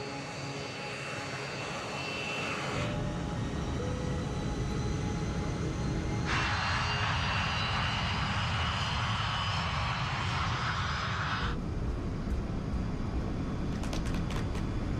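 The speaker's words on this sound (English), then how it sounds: "West Caribbean 708, runway 21 left, cleared for takeoff." Airliner jet engines roar during a night takeoff roll at Panama airport, a loud, rising thunderous rumble with a whining hiss that swells and holds steady, no voices over it.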